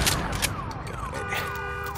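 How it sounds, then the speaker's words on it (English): Alarm siren sounding in the video game Days Gone, a steady wailing tone with sweeping pitch glides over dense game noise, loud and close throughout. "Alarm."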